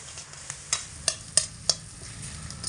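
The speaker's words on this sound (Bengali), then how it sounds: "এবার মিডিয়াম আঁচে রেখে মশলাটা খুব সুন্দর করে কষিয়ে নেব যতক্ষণ না মশলা থেকে তেল ছাড়ছে" Spice masala being stirred and fried over medium heat for a vegetarian okra posto dish, soft sizzling under a series of sharp spatula scrapes and taps, roughly one every third of a second, fairly quiet and close.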